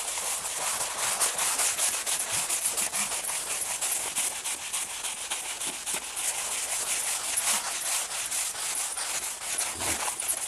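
Steady dry rubbing across a board to erase writing, faint and continuous with short scratchy strokes and no talk.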